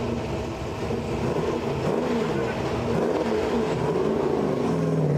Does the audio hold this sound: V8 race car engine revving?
yes